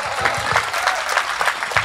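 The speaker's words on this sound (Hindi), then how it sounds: "एक बार मेरे सम्मान में भी ताली बजाइए" An audience at a Hindi comedy poetry show applauds loudly, a dense burst of clapping with a brisk, slightly rhythmic pulse.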